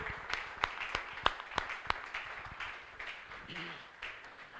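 Church congregation clapping during a sermon, starting with a few sharp, distinct claps near the front before blending into a softer, scattered round of applause that fades, with some speech in the room.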